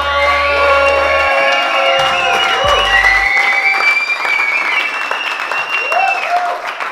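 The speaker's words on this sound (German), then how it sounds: "zweiter Applaus, danke, dass du da warst" A crowd at a miniramp skateboard jam applauds and cheers, a loud sustained wash of clapping with whoops and shouted voices rising above it, slowly tapering toward the end.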